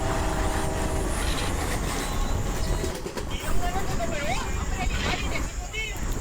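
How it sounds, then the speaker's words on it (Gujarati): A long train rumbles steadily past on a railway track, a continuous close roar with faint wheel squeals and birds in the background while a person talks over it. "બીજા પાટા ઉપર ટ્રેન આવે છે। બહુ લાંબી ટ્રેન લાગી હતો, પૂરી જ નથી થતી"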